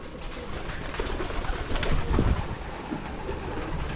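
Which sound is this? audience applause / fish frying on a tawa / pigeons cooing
pigeons cooing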